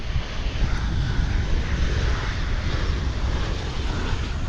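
UPS cargo airplane taxiing at DFW Airport, heard as a steady, broad jet-engine roar and rumble that stays at an even loudness throughout with no distinct events.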